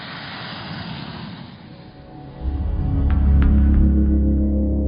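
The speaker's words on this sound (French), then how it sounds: "Sur la piste, des dizaines d'accélérations et de freinages s'enchaînent à un rythme soutenu" Dassault nEUROn unmanned jet on a runway during repeated acceleration and braking runs, a whooshing engine roar that dips and then swells into a loud, deep, sustained rumble, heard with no voices.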